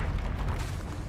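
A Confringo explosive spell goes off in Hogwarts Legacy, a dense, rumbling blast with heavy low-end boom sustained through the short moment, loud and close with no voice over it.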